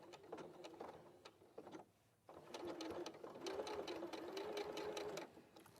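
A sewing machine runs close by in two rapid bursts of stitching, a steady mechanical chatter with a brief pause between them, forming a bar tack.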